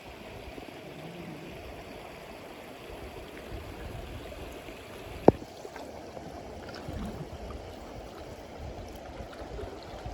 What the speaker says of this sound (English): Pretty river.